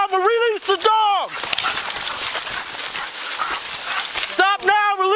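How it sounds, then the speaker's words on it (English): A police K9 dog barks and yelps in short bursts during an arrest in the woods, with a stretch of harsh rustling noise between them and people shouting nearby. "release the dog!"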